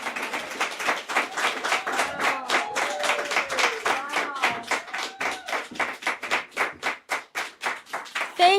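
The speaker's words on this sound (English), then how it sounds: "Another round of applause." An audience at an art and music event honoring Dr. King claps; distinct hand claps stand out, and the clapping grows sparser and more rhythmic toward the end.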